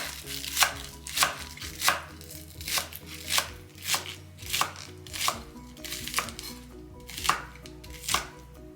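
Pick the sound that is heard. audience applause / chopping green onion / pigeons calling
chopping green onion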